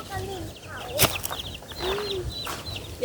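Young chicks being raised on a rural Thai homestead peep and cluck in short, thin calls scattered across the moment, heard close and fairly quiet, with a few bumps and faint voices in the background.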